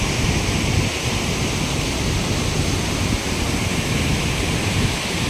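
A mountain stream and waterfall rush beside a rough wooden bridge on a trekking route in Kugati, Bharmour, giving a loud, steady, dense roar of water that holds constant throughout with no voices.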